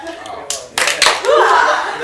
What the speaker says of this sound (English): Everyone do their handshake, clap, and hoo-ah.